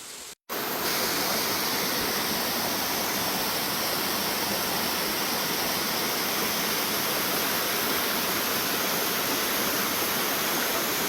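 Dharsimel waterfall in the hilly Naswadi area, its water flow reduced, roaring as a constant broadband rush that stays loud and unbroken after a brief dropout at the start.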